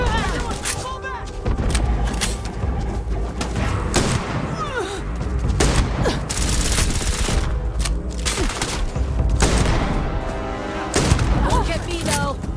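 Firefight gunfire in the Starfield video game, with repeated bursts and single shots of weapon fire continuing throughout, mixed with booms and thuds and some shouted voices and game dialogue.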